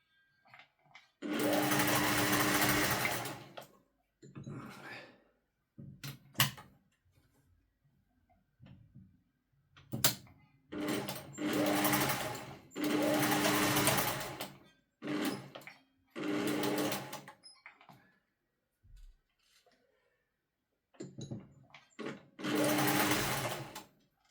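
Singer 401 sewing machine being adjusted for tension problems, running in repeated short bursts of close whirring stitching separated by quiet pauses and small clicks.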